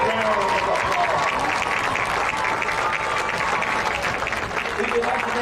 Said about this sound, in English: give this fine group of ladies a big round of applause